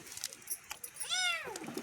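A cat meows once, a clear drawn-out call that rises and falls, fairly close in a home kitchen while food with turmeric and spices is being prepared, with faint household noise around it and no talk.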